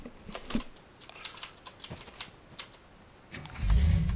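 Computer keyboard keys clack in an irregular series of light taps and presses, fairly quiet, with a low rumble swelling near the end and no voices.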